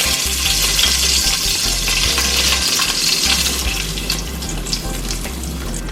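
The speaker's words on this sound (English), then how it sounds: "we're gonna get a pot with a little bit of oil. We're gonna burn some of the curry." Curry powder burns in a little oil in a pot on the stove for Jamaican-style curry chicken, giving a loud, steady, close sizzle that hardly changes throughout.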